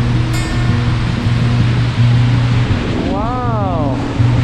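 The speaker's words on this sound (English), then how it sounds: "What a beautiful waterfall!" Steady rushing roar of the Hraunfossar lava-field waterfalls in Iceland, loud and continuous with wind buffeting the microphone, while voices talk over it.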